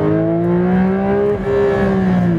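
Porsche 911 GT3 RS engine at a slow driving pace, a loud, steady droning tone with a slight pitch rise and brief dip, heard from inside the car.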